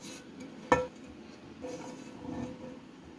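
A spoon stirring a kısır mixture with sautéed onion and tomato paste sauce in a bowl: one sharp clink, then faint scraping and soft clatter, close and quiet.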